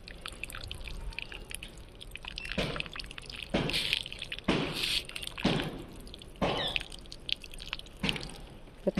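Water is poured by hand onto the base of a plant in a grow bag, giving several separate splashy pours with short gaps between them, close and fairly clear against a quiet background.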